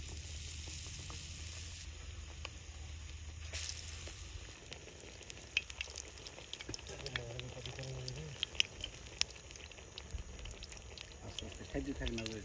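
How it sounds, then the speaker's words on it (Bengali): Battered eggplant fritters, beguni, fry in hot oil with a dense, steady sizzle that drops to a quieter crackle partway through, with scattered clinks and stirring close by. "এই যে বেগুনি ভাজা শুরু করে দিলাম।"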